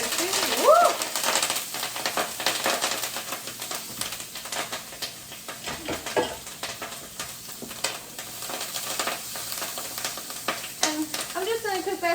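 Kale sizzles and fries in a pan alongside creamy lemon orzo, a steady crackle with occasional stirring scrapes and a brief voice early on.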